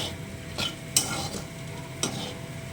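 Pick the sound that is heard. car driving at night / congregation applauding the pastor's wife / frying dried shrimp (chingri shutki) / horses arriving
frying dried shrimp (chingri shutki)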